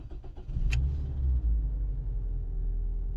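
A boosted BMW engine cranks and fires up after sitting two weeks, a short starter burst catching into a deep, close, steady idle rumble.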